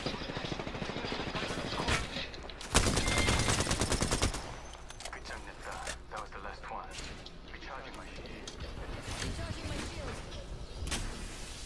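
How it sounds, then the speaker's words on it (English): Gunfire in the video game Apex Legends, including a sniper rifle, with a loud dense burst of shots in the middle and scattered cracks elsewhere, under game effects and a player talking. "that's a sniper"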